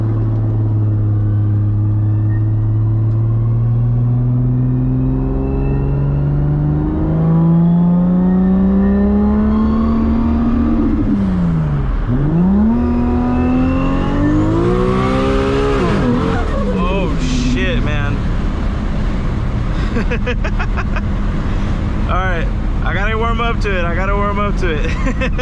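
Engine of a car in Escape from Tarkov revving loudly, its pitch climbing and dipping with the throttle while the vehicle slides sideways, with tire scrubbing and clatter building toward the end.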